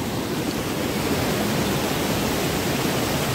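A jungle waterfall in Karbi Anglong roars as a loud, constant, dense wash of noise with no breaks or voices.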